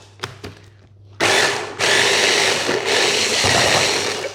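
A small 1-litre blender whirs loudly while blending garlic toum, starting after a couple of faint taps and running steadily, with a brief jolt as the motor catches near the start.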